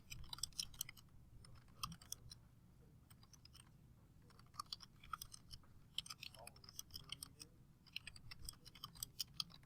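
Keys clatter on a computer keyboard while text goes into a spreadsheet cell, a steady run of quick, close clicks in uneven bursts with short pauses.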